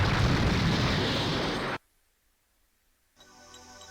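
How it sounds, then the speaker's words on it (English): Bomb explosion in the Ghost in the Shell S.A.C. video game, a loud, broad rumbling blast that roars on for nearly two seconds, cuts to silence, then gives way to faint game tones. "Bomb."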